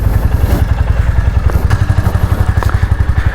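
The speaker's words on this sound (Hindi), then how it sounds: "और अब करते हैं यहाँ बाइक को स्टार्ट" A Royal Enfield Classic 350 BS6 Stealth Black dual-channel single-cylinder motorcycle engine runs with a steady, loud, close thumping idle pulse, with some light mechanical clatter.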